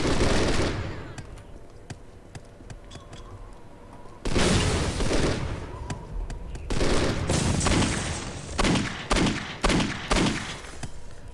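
Grenades thrown by zombie Gary in Postal 2 explode in loud, heavy blasts, one long burst at the start, another around the middle, then a quick string of booms with short gaps between them.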